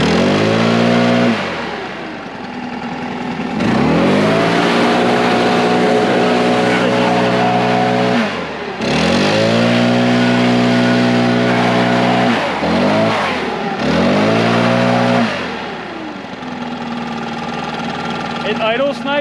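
A small two-stroke gas leaf blower repeatedly revving from a low idle up to a loud, high whine at full throttle, then dropping back, several times in a row.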